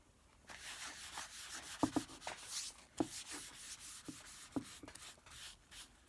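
Shellac coat being rubbed onto carved wood with a cloth, giving soft, irregular swishing strokes and light scuffs, close but quiet.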